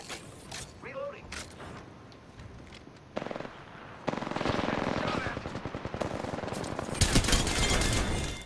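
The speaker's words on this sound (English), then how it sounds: "The enemies are shooting at me." Rapid automatic gunfire from enemies in the battle royale game Apex Legends, crackling in dense bursts that build and grow louder over the clip, with mechanical clatter and in-game voices underneath.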